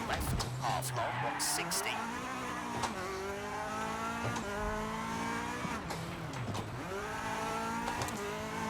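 An F2 kit rally car engine in EA WRC revs and drops through downshifts, rising and falling harmonic whine, with tire noise and a voice talking over it.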